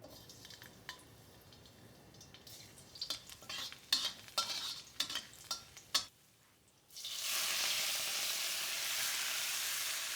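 Morning glory going into a wok of hot oil and garlic over a high flame in a Hakka home kitchen, preceded by a quiet stretch of clinks and scrapes, then a sudden loud, sustained sizzle that holds to the end.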